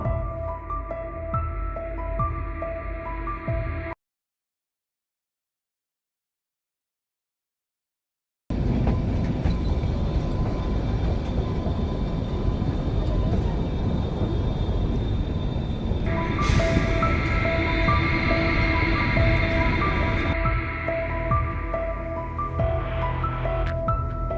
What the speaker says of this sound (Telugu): చెక్అవుట్ చేసి రైల్వే స్టేషన్కి వెళ్ళి ట్రైన్ ఎక్కాం